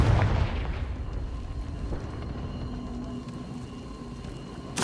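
Confringo fire spell blasting in Hogwarts Legacy, a heavy booming explosion at the start that rolls into a long, dense rumbling decay, loud and close with no talk over it.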